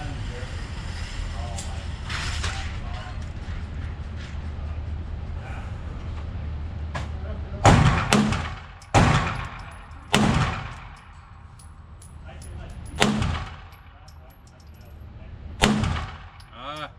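Bursts of gunfire from the Athena gun in a video game land as several loud, sharp shots in the second half, each followed by a short decaying tail, over a steady rumbling game background.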